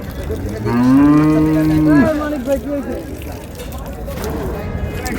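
Cows and calves at a rural cattle market, one loud close moo held for about a second, then crowd chatter and market bustle continue underneath.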